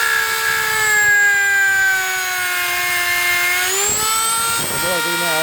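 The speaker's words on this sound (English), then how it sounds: "this is my piece of wood, this is my Dremel" A Dremel rotary tool cuts into a piece of wood while fitting canoe seats: a loud, close, high motor whine that holds steady, then dips and shifts pitch as the bit bites.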